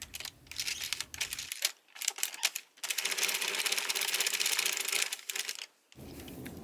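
Sentro knitting machine stitching together a maxi dress panel, giving a steady rapid mechanical clatter with short bursts and pauses, close and fairly quiet, with no talk.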